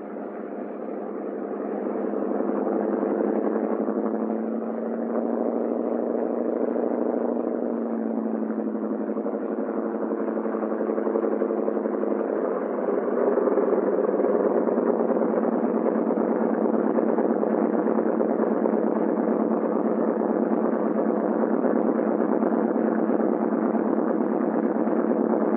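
Piston engines of a Douglas C-47 transport aircraft run steadily before taxiing, a continuous droning hum with a low rumble that holds at an even, moderately loud level throughout.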